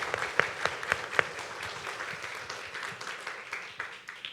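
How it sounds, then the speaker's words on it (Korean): A church congregation claps for a pastor serving as a missionary in the Philippines during a Sunday worship service. Several sharp individual claps ring out at first, then settle into a sustained, fairly soft round of applause. "필리핀에서 그 힘든 사역하시는 우리 이철영 목사님께 우리 힘내시라고 큰 박수 한번 부탁드리겠습니다"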